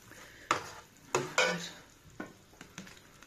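Leek sofrito cooking in a pan, soft low sizzle with several sharp stirring clatters of utensil against the pan, close and fairly quiet, with no voices.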